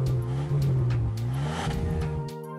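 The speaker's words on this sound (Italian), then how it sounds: "Saetta sveglia tutti con il suono del suo motore." A toy race car in a stop-motion play scene gives off a revving engine whine that rises and dips in pitch for a couple of seconds, close and fairly loud, then cuts off abruptly.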